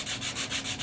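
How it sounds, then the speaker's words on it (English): Sanding across the wooden shooter lane of a pinball machine during resurfacing, six steady back-and-forth rubbing strokes in an even rhythm, close and fairly loud with no talk. "And also with the sanding too, try not to hang out in one little spot."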